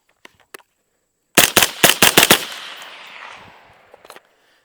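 An IWI Carmel rifle fires from a Troy Battle magazine in a rapid string of about six close, loud shots, the echo trailing off, with a few faint clicks before and after.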